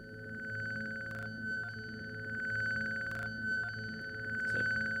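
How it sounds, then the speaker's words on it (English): A steady high electronic tone hums over a low pulsing synth bed, with faint periodic sweeping blips like a sci-fi scanner, made with the Absynth synthesizer. "that's a sort of sci-fi background noise there. Scanning, scanning."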